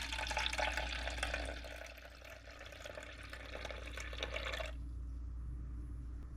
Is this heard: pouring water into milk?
yes